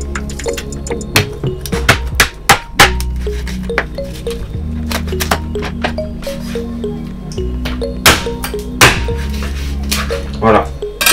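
A knife chops through a poultry carcass on a board in a kitchen, making a quick series of sharp, wet cracks and thuds at close range over a steady low hum, with a few heavier blows standing out.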